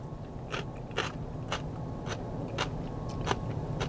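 Several sharp crunchy bites into a pickled bell pepper, spaced about half a second apart, close up, over a steady low background hum.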